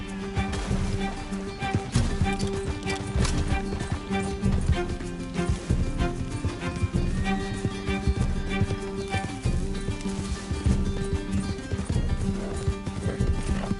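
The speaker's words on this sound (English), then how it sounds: "Can't this horse go any faster?" A horse galloping in the video game Red Dead Redemption 2, with rapid steady hoofbeats running throughout over game sound, loud and close, with occasional whinnies.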